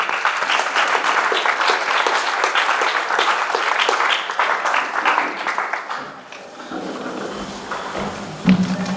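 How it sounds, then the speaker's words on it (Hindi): An audience of students at an interaction programme claps steadily for several seconds, the applause fading out toward the end, followed by quieter room noise and a soft thump. "ताली बजाएं।"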